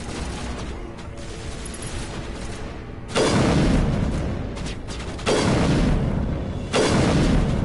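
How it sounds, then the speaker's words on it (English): Gunfire in the video game Mass Effect: sustained rattling shots over a rumbling bed, with three heavy booming bursts hitting loud and near in quick succession. "I'm still shooting at something."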